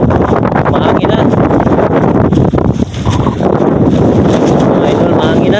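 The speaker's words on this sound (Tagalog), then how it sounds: "mahangin na." Strong wind buffets the microphone aboard a longline fishing boat at sea, with a steady roaring rush that nearly drowns a voice talking underneath.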